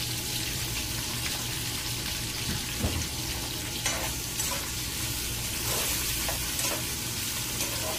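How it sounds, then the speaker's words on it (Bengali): Chopped onion stir-fried with garam masala in a pan makes a dense, steady sizzle laced with repeated spatula scrapes and light clatters, close up and without speech. "পেঁয়াজ কুচিটা দিয়ে আমরা একটু গরম মশলার সাথে পেঁয়াজটা একটু ভালোভাবে মিক্স করে নিব"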